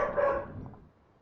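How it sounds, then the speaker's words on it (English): A dog barks in a short, fairly close burst of yaps that quickly tails off into quiet room tone. "Why is my dog barking?"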